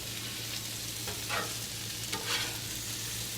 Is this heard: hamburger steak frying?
yes